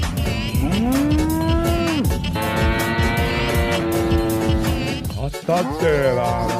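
A cow moos loudly in long drawn-out calls, close and continuous, with a mechanical whine and busy background noise mixed in.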